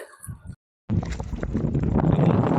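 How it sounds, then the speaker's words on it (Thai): Strong wind buffets the microphone outdoors during a fishing session, a loud, rough, continuous rumble that starts after a brief gap and persists to the end. "วันนี้วันลมแรง"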